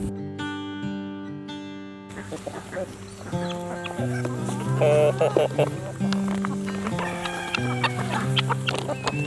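Chickens cluck and chatter around a coop on a homestead farm, layered with other bird calls and occasional nearby voices.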